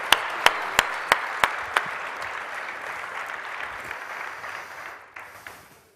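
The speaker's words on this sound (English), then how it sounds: "a round of applause for our Q&A" A seated audience at a tech event in Bucharest applauds to close a Q&A panel: a few loud, distinct claps lead into steady, dense clapping across the room that slowly thins and fades toward the end.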